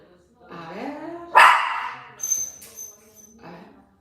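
A dog barks and yips during a grooming session in a dog groomer's salon, one sharp loud bark followed by smaller whimpering yelps, with a voice talking around it.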